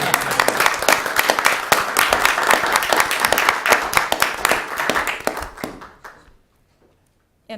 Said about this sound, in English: we're gonna clap first